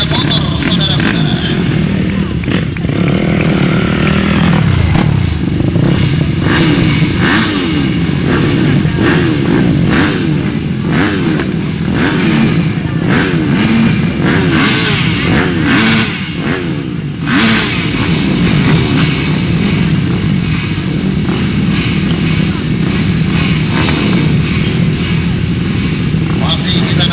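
Several motocross motorcycles rev and snarl together on the start line of a race, a loud, continuous engine roar with rising blips, under an announcer's voice speaking over a public address.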